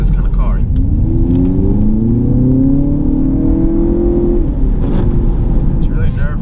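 A 2018 Audi TT with all-wheel drive moving along a wet road, its engine note rising steadily as it accelerates over a constant loud rumble of road and tyre noise.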